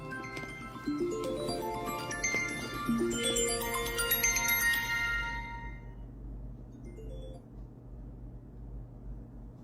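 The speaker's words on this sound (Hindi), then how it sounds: "माफ कीजिएगा, फोन आ गया था।" A phone ringtone plays an incoming-call melody of bright stepping tones for several seconds at moderate volume indoors, then stops, leaving faint room noise.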